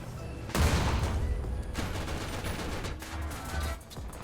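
Heavy sustained gunfire from a BMP in a video game, a loud dense burst of rapid shots that keeps going for several seconds before easing off.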